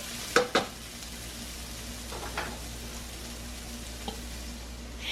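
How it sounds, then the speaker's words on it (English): Onion, carrots, celery and bok choy stems cooking in a pan give a faint steady sizzle, with a few sharp clinks of stirring near the start and softer scrapes later, and no talking. "What I've got in the pan here is onion, carrots, celery, and some stems from bok choy from the garden."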